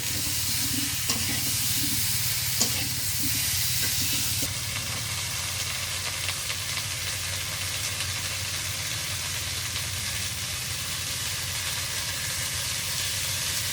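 Pointed gourd (potol) frying in a pan at a village cooking spot, a steady close sizzle with occasional stirring scrapes early on, then a softer continuous hiss.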